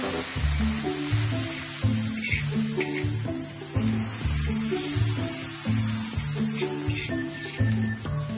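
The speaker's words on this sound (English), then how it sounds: "I will need to stir the meat and fry it until brown" Beef sizzles and spits steadily in hot oil in a strongly heated cauldron while being stirred, a continuous close frying hiss with occasional scraping, no voices.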